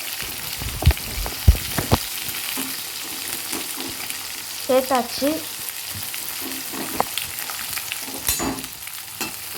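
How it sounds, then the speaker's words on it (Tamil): Chopped onions sizzle and crackle steadily in hot oil, with scraping stirring sounds and a few clattering knocks of a utensil; a voice speaks briefly. "இது கூட நறுக்கி வச்ச வெங்காயத்தை சேர்த்துப்போம்"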